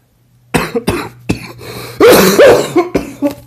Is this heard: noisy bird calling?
no